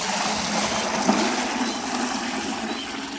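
Water being poured into a pot at home, a steady broadband rush of running liquid that fills the moment at close range, with no voices over it.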